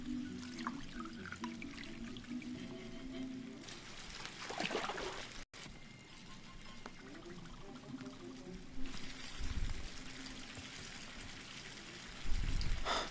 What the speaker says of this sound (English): Man, this hot water's going to feel so good.